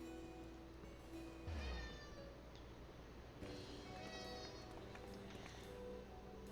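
Hungry cats in a Final Fantasy XIV game scene give a couple of short meows amid background game music, fairly faint and spaced apart.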